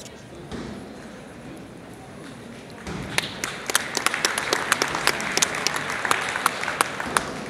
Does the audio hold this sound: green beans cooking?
no